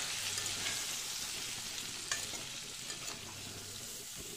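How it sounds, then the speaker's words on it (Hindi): Tomatoes with spices and salt frying in a pan for matar paneer, a steady, close sizzle with soft scraping as the mix is stirred, no voices. "और इसको एक बार हम हिला देते हैं।"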